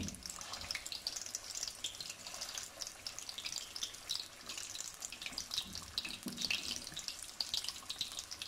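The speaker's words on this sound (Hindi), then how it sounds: "5 मिनट तक उसको हम फ्राई करेंगे।" Rahu fish pieces fry in a small kadai with a continuous, moderately quiet crackling sizzle that holds steady throughout.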